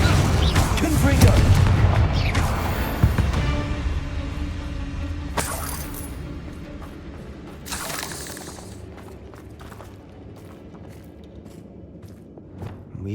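A Confringo fire spell explodes in Hogwarts Legacy, a heavy booming blast early on followed by sharp cracks and shattering bursts that fade into a low rumbling tail.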